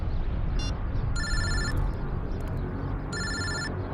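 A telephone rings in two bursts of bright electronic trilling, with a short chirp before, over a steady low background hum.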